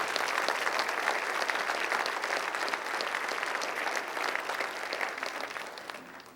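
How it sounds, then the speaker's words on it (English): Steady, dense applause from an audience honoring officers of the Hawthorne Police Department at a public gathering, a loud continuous wash of many hands clapping that holds evenly for several seconds before easing slightly at the end. "Let's give them the deserved round of applause they deserve."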